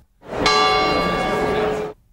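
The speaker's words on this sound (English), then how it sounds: "they strike the huge bell every hour on the hour." A huge bell struck by bronze Moor statues on a clock tower rings out with a single loud, sharp clang whose bright metallic tone holds steady for about a second and a half before cutting off.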